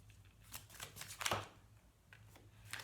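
Tarot cards are shuffled by hand in a series of soft, papery riffles and slaps, close but faint, with an uneven rhythm and one louder burst midway.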